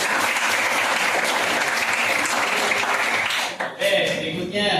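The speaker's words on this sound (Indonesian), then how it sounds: "tepuk tangan" A classroom breaks into lively group applause, steady and dense for several seconds before it drops off and voices come through near the end.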